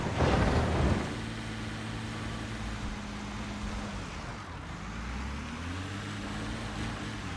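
A heavy excavator in Construction Simulator drives forward with its bucket lowered to the ground, steady low engine drone and tonal whine running throughout, louder in the first second then holding an even rumble.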